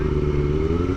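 A motorcycle engine revs nearby at a roundabout, a short burst of strong, steady mid-low engine drone with a slight rise in pitch.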